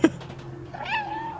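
A cat in a video game lets out one drawn-out meow after a short sharp knock, heard close over a low steady game hum.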